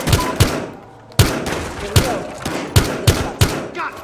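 Close, sharp gunshots from a firefight in the video game Battlefield Hardline: about seven loud cracks spaced irregularly over a few seconds, each with a brief trailing rumble.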